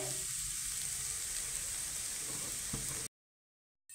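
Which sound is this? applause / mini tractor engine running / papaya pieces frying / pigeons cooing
papaya pieces frying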